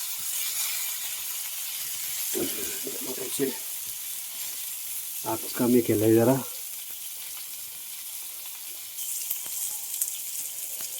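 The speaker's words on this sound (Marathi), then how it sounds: "छान अशी मच्छी फ्राय होते आपली, जबरदस्त" Bangda mackerel frying on a village wood-fired chulha, a steady soft sizzle throughout with brief bursts of talk and stirring in between.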